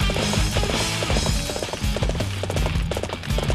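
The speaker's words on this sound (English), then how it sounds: "This horse is slow as heck." A horse galloping in the video game Dynasty Warriors 7 Empires: loud, rapid, rhythmic hoofbeats that keep on without a break over game background noise.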